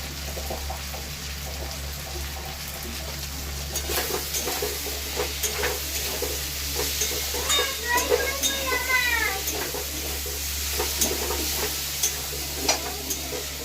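Ground coriander and cumin powder frying with spices in a pan, giving a steady low sizzle with scraping stir strokes and brief clinks, close and moderately loud, with no talk.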